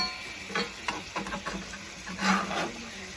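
Venison burger patties sizzle and crackle in a hot pan while being flipped, with soft scraping bursts of the turner over a low frying hiss.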